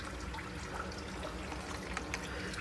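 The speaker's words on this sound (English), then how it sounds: "We're gonna lose some coolant. Try to pull it off slowly if you don't want it to waterfall down there." Engine coolant drains from the opening left by a removed temperature sensor on a Chevy engine, a steady, continuous trickle and splash at low level with no talk.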